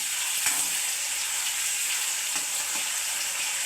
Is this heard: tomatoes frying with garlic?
yes